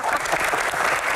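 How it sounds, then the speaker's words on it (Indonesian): Applause from a live audience at an Indonesian Q&A comedy-style talk show, a steady dense clapping that fills the whole short moment at close, loud level. "tepuk tangan dong Bang Hensha"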